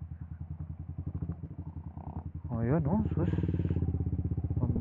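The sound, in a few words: motorcycle riding over debris-strewn road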